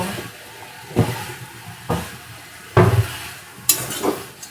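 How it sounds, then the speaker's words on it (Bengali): Radish greens stirred in a pan after mustard oil is added, with a spoon scraping and clanking against the metal in a few distinct strokes over a soft background sizzle, close up. "আমি একটু সামান্য উপর থেকে দেখো সর্ষের তেল দিয়ে দিচ্ছি। দিয়ে ভালো করে একটু নাড়াচাড়া করে তারপরে নামিয়ে নেব।"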